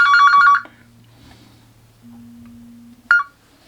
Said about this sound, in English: it was the doctor's surgery ringing up